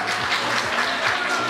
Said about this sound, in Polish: Drodzy Państwo, nagródźcie brawami jeszcze raz osoby,